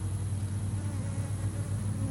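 Honey bees at an apiary produce a steady, continuous low buzz that holds evenly throughout, with no voices over it.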